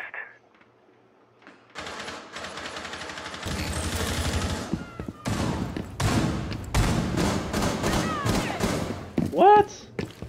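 Bursts of automatic gunfire and single shots ring out in Rainbow Six Siege, coming in loud clustered volleys with short gaps between them, mixed with other game sounds.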